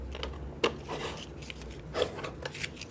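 Sandpaper rubs across a new rubber stamp to condition it, giving soft irregular scratchy strokes with a few sharper scrapes, close and quiet.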